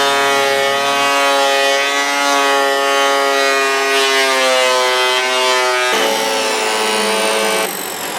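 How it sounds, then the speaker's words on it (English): An electric planer whines loudly and steadily as it planes down wooden boards, a high harmonic motor tone that shifts pitch under load and dips briefly near the end, close and continuous. "dig that planer out and plane those boards down"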